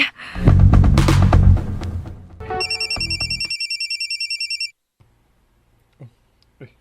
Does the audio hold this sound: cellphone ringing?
yes